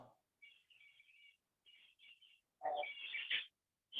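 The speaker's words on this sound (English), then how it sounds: "I can still hear the birds." Birds chirp in short, high twittering bursts separated by silences, fairly faint and distant, with a brief low voice-like sound near the start and end.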